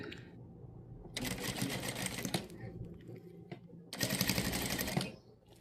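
A sewing machine stitches through stacked sequined fabric and lining, running in two bursts of rapid, steady stitching with a quieter pause between and some faint background handling.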